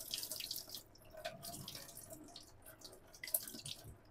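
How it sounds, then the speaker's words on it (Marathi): Golden anchovies being rinsed under a running kitchen tap, water splashing and pattering steadily with irregular bursts as the fish are handled, close and fairly quiet, with no voices. "वाहत्या पाण्याखाली धुवून घ्यायची चांगली।"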